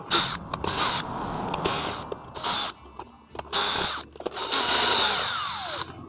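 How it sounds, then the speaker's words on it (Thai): A power screwdriver backs out the screws from the base of a fruit and vegetable blender, giving several close whirring bursts separated by short pauses, with no talking. "ใต้ฐานก็จะมีสกรูล็อกอยู่ 4 ตัว อ่าตัวนี้ตัวเป็น 5 ตัวนะครับ แล้วก็ขันสกรูออกเลยนะครับ"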